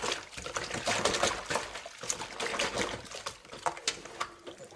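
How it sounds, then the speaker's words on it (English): Water trickling and pouring over lemon- and salt-soaked chicken pieces as they are washed by hand for Ethiopian doro wat, with irregular splashes and dribbles close by. "you just wash it till the water is pure, clean"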